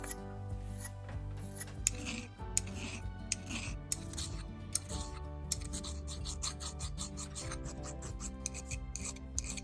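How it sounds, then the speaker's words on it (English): Hand files working on a cast bronze fishing lure, a series of short rasping strokes repeated at an uneven pace, close and crisp against a quiet background. "I'll switch to some files for the fine work"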